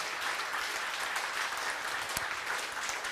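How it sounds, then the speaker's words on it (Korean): A large audience at a Korean keynote lecture by a Buddhist monk applauds in a steady, dense wash of clapping that stays even and moderately loud throughout, with no voices over it. "큰 박수를 한번 보내주시죠."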